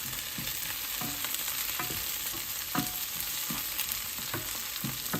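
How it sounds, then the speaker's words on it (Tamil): Torn curry leaves hit hot oil in a pan while cooking kale wara, giving a steady close crackling sizzle with a few sharper pops and stirring knocks, no talking. "அதனுடைய கருவேப்பிலையை நாங்கள் இப்படி கிழிச்சிட்டு போடுவோம்."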